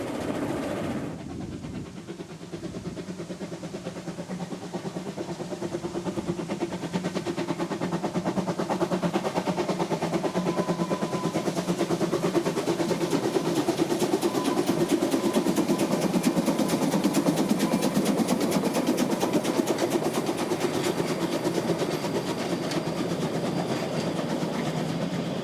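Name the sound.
Rasender Roland narrow-gauge railway train on Rügen running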